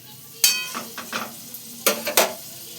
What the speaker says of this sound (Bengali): খানিকটা মাখন দিয়ে নিচ্ছি